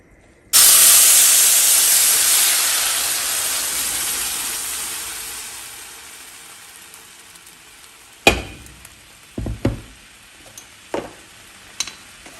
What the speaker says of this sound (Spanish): Vamos a agregar la salsa en una cacerola con un poquito de aceite.